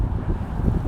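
Strong blizzard wind roars over a Montreal highway with traffic still moving, a dense, constant low rumble of gusts buffeting the microphone with no voices.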